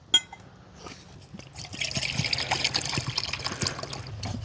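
Water poured from a container into a small tin set over a campfire, a steady trickling and splashing fill that swells after a brief knock at the start and carries on for several seconds, close by with no talking.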